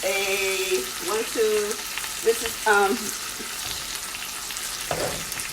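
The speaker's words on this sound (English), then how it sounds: "I'm going to keep basting that butter on there" Steak searing in a pan while a tablespoon of butter is spooned over it, a continuous close sizzle broken by brief scraping and clinking sounds, with a voice audible in places.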